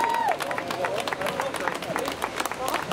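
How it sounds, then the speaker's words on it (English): A rally crowd breaks into applause, a dense spread of clapping mixed with cheering and murmuring voices. "Let's give them an applause."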